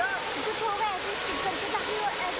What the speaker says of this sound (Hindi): नीचे फ्लो से उतरा ये पानी आ रहा था